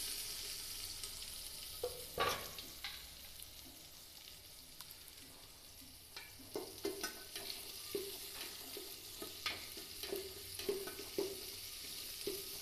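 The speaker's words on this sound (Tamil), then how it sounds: "இப்போ வெங்காயத்தை போட்டுறேன்." Sliced onion fries in hot oil in a pan alongside green chilies for a greens dish, a soft steady sizzle broken by scraping stirs and occasional clinks, close and fairly quiet with no talk.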